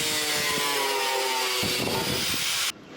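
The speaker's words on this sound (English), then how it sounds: "Just rip through that with a grinder." An angle grinder cuts through a metal rear bar with a loud, continuous high-pitched whine and gritty scraping, the disc biting harder near the end before the cut finishes and the tool stops abruptly.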